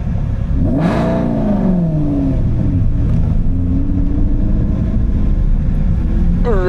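Aston Martin Vantage V8 track car fitted with new headers at the Nürburgring, engine running loud and close with a rising rev sweep and a steady growling drone, with a brief voice near the start.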